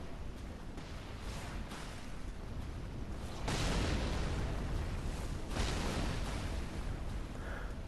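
Ballista bolts explode in the video game Dark Souls 3 at Smouldering Lake: a rumbling explosive backdrop, then two heavy blasts a couple of seconds apart swell louder and fade back into the roar.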